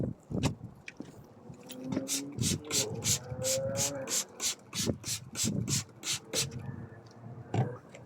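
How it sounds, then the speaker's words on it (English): Rhythmic strokes of sandpaper rasp across a yellowed plastic headlight lens on a Mercedes W210 E270 CDI, a steady back-and-forth scrubbing at close range with a few soft knocks in between. "once you have sanded down the headlight and you're happy with what it looks like"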